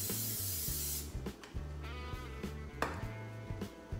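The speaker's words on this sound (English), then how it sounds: "I'm going to spray my dish with some butter flavored spray" Butter-flavored cooking spray hisses onto a dish in one short, close burst of about a second, followed by soft background music.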